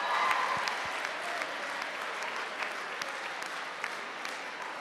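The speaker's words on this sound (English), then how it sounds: "Give yourselves a nice round of applause." A crowd applauds steadily, a dense wash of many hands clapping that holds at an even level throughout without voices over it.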